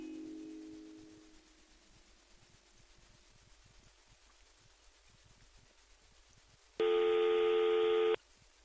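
A phone line drones with a steady tone, then a loud ringback burst sounds near the end, with nobody picking up.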